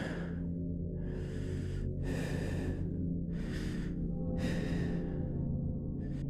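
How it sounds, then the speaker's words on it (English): Heavy, close breathing pressed right against a microphone at night, slow breaths swelling and fading in about four cycles over a constant low hum, with no talking. "but the breathing is still there."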